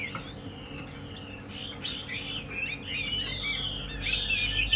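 A hwamei songbird sings in varied, warbling phrases, clear and fairly close, growing fuller and busier toward the end over a low background hum.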